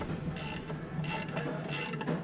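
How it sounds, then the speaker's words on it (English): A ratchet wrench clicks in three short, crisp bursts at a steady pace during a toilet installation, close and clear with no talk. "I'm going to break out my new handy dandy ratchet wrench"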